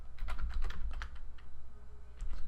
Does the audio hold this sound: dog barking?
no